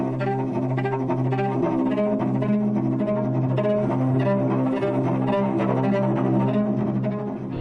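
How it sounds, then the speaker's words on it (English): Cinematic theme music for the character Kara in Detroit: Become Human, with sustained layered tones and a steady pulsing texture, full and continuous at an even level throughout. "it became the basis for Kara's theme, and it sounds something like this"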